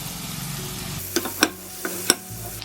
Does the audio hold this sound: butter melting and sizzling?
yes